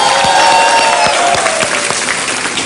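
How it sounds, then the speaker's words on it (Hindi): A studio audience on a television game show applauds loudly and continuously, a dense wash of clapping that tapers slightly toward the end. "जोरदार तालियों के साथ आपने अपना स्वागत सुना"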